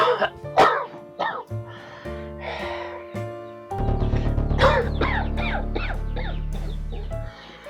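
An old man coughs and clears his throat in a few rough bursts, then a low sustained tone of background music swells beneath the later coughs.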